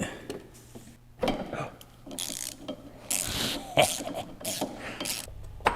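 A ratchet on a very long swivel extension works loose a single bolt while removing a part from a junkyard Audi 90 Quattro Sport: bursts of clicking ratchet strokes come in uneven runs, close and fairly loud, with no talk.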